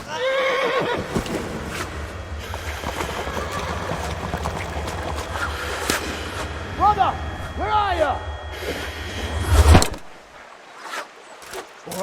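Horses neigh and whinny on a riverbank in the video game Kingdom Come Deliverance, several loud close calls over hooves and background commotion, with brief voices and a final thud before fading.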